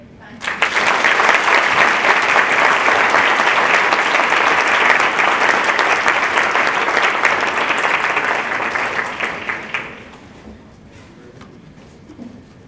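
An audience at a professional development meeting applauds a speaker. The clapping is loud and dense, starts almost at once, holds for about nine seconds and then dies away into a quiet room.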